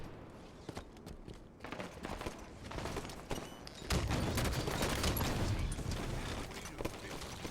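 Halo match gunfire on a Plaza map, with dense rapid shots, bursts and steady weapon fire running throughout, growing louder and busier in the second half, with footstep-like movement underneath.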